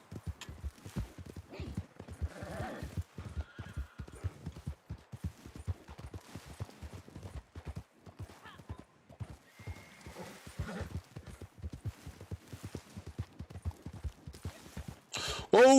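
A horse gallops in a video game, rapid rhythmic hoofbeats running steadily throughout, with occasional neighs, a faint gunshot and a sharp loud burst at the end.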